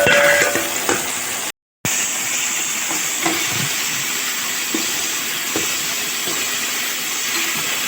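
Tomato with ginger garlic paste fries and sizzles in a pan for chicken kuzhambu, a steady close hiss broken by light stirring scrapes and one brief moment of silence.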